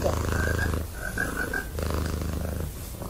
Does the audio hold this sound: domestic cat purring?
yes